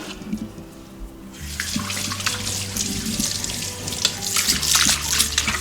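Running tap water splashes into a clay mud pot during washing, a loud continuous gush close by with sloshing and scrubbing, starting after a brief quieter moment.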